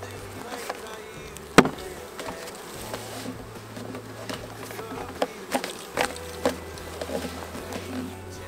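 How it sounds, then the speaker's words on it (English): Honey bees buzz around an open hive in Minnesota during an inspection, a faint steady hum of many insects close by, punctuated by small clicks and taps of handling the frames. "Look at all those bees."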